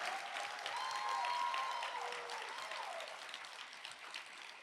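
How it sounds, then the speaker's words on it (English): Audience applause honoring scholarship recipients at a Keeper of the Dream awards celebration, steady dense clapping from a room of people sustained throughout, with faint tonal ringing above it and no talk. "Let's give another round of applause for all of our recipients."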